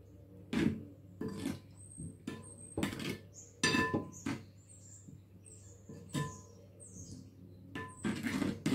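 A utensil stirs a thick soy milk and tahini mixture in a pot, making irregular clinks and scrapes, with some louder taps against the pot between quieter stretches.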